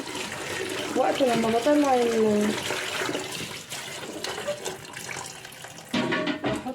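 Tap water running over Swiss chard as it is washed, a steady splashing stream under a woman's speech, fading then returning near the end.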